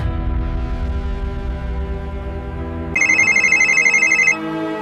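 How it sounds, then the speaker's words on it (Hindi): A phone rings with an incoming call from a senior police officer during a roadside traffic-challan confrontation, its loud, steady electronic ringtone kicking in over a low background hum and cutting off shortly after. "अब एसपी साहब का फोन आ रहा है, देखो।"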